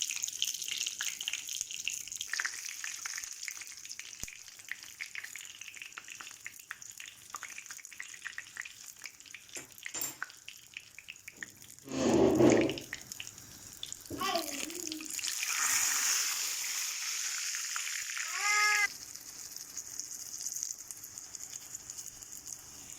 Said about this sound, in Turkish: Evet arkadaşlar böreklerimi kızartmaya başladım.